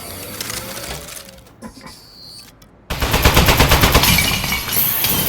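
Robot turret in Aperture Desk Job opening fire after a short quiet stretch, a loud, rapid stream of mechanical gunshots that runs on steadily to the end with no talk.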